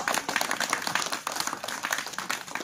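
Schoolchildren in a classroom clap together, a quick uneven burst of many small hands, fairly close and lively, with little talk.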